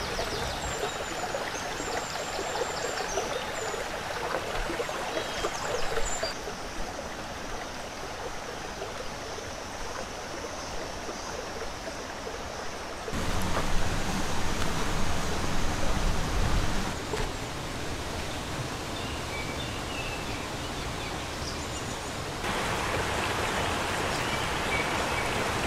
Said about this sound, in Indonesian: Dari sini kalian sudah mendengar suara air yang memanjakan telinga dan menandakan air terjunnya telah dekat